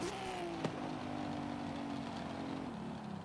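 A car in Forza Horizon 5 drives across Mexico between events, its engine droning steadily at a fairly constant pitch, with a brief thump and a small gear-like drop in tone near the end, heard at low volume.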